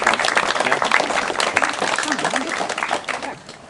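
An indoor audience at a public event gives a round of steady, dense clapping that fades toward the end.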